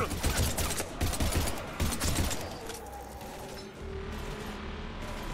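Rapid gunfire in a Mass Effect video game, several close bursts of shots in the first seconds, then fading to quieter ambient combat noise, with voices talking over the action.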